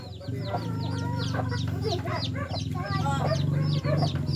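Chickens cluck repeatedly in a busy flock nearby, with short rhythmic calls stacking over each other and a faint rooster crow, set against a low steady background hum.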